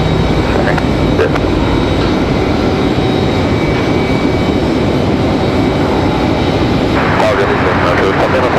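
At Raleigh-Durham International Airport, an airliner spools up to takeoff power on the runway: a loud, continuous broadband engine roar that stays steady throughout, with radio chatter faintly mixed in.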